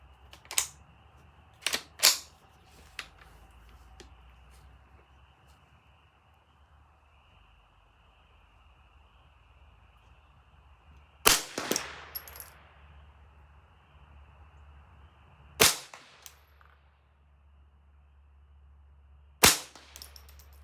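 Ruger 10/22 rifle firing Norma Match .22 ammunition at a range: sharp, fairly loud single cracks spaced unevenly, two close together early and then three more several seconds apart, with quiet background hiss between.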